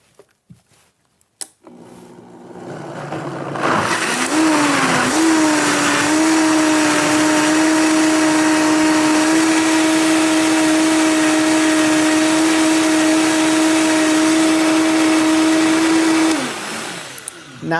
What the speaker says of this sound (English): And I'm going to blend this.